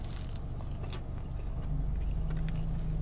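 A crisp bite into a crunchy Taco Bell Mexican pizza, followed by close, steady chewing with faint crackling crunches and no talking.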